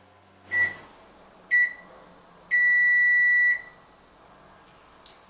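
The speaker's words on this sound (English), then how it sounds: "it may take up to 2 minutes" Three electronic beeps from a microwave oven cooking frozen burritos, two short ones and then a long steady tone, followed by a faint click, with a low hum underneath.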